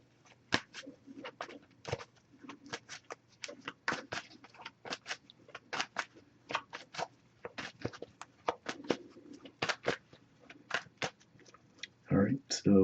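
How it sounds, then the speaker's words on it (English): An oracle card deck is shuffled and cut by hand, a rapid irregular series of close, crisp card snaps and riffles spread across the whole stretch, with a louder clatter at the very end. "So I'll give this a few shuffles, looking for a single card."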